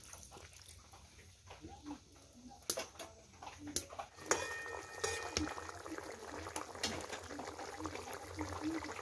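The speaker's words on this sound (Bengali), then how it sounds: "এবারে একটু জল দিয়ে দিচ্ছি সামান্য পরিমাণে" Splashing, bubbling liquid rises from a pan of crab curry with mustard paste as a small amount of water goes in, growing busier and hissing toward the end over a faint background of voice and kitchen clatter.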